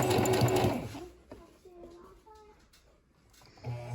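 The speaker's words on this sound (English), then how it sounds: "I have it aligned, and I'm going to stitch straight across." A sewing machine runs loud and steady as it stitches ribbon straight across the body of a tutu, then slows and drops to quieter, intermittent whirs before picking back up near the end.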